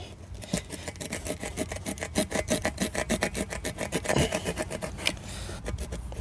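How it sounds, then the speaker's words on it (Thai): An old car tyre is sawn by hand, giving a fast, steady rasping back-and-forth stroke that stays close and loud with no talking. "เลื่อยใช้วิธีการแบบเลื่อยเอา ไปตามรอย"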